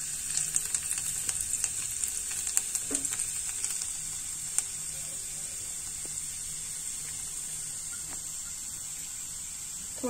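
Chopped garlic frying in refined oil for Manchurian, a continuous fine sizzle and spatter with scattered sharp crackles, heaviest early and settling into an even hiss, close and moderately quiet with no talk.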